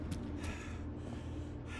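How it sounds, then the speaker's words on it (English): Heavy, rapid gasping breaths of the player character in the shooter video game Marauders, close and loud, a quick run of sharp inhales and exhales with no talk. "now you're breathing heavy like a crazy person, letting everybody know where you're at"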